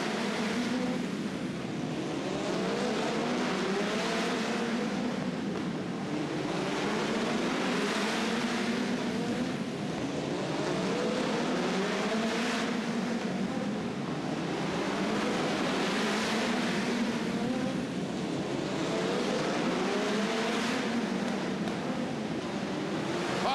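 Midget race cars circle a dirt speedway during a National Midgets feature event in Fort Wayne, their engines forming a loud continuous roar that swells and fades in repeating waves as cars pass close by.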